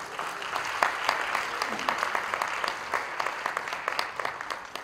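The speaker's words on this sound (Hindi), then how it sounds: "जोरदार तालियों से स्वागत।" An audience at the Ustad Bismillah Khan birth centenary event applauds a welcome for Hema Malini, with moderate, fairly distant clapping carrying distinct sharper claps and a faint voice underneath.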